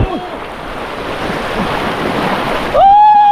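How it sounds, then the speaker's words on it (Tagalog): Strong river current and waves rush loudly and close, a constant roaring wash with wind buffeting the microphone, a person crying out over the water, then a sharp high tone near the end. "Ang lakas ng alon! Agos!"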